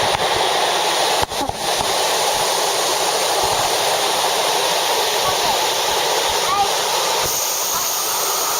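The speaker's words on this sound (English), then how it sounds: "Look at these waterfalls. This is amazing. Look how much water's coming down compared to before." Waterfalls in Japan pour heavy water down in a loud, constant roar that hardly varies, heard up close with a brief dip partway through.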